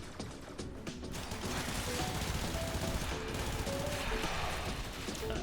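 Soma assault rifle fire in Warframe, aimed at level 50 enemies: a dense, sustained stream of rapid automatic shots at steady loudness, continuing unbroken for several seconds with mechanical clatter mixed in.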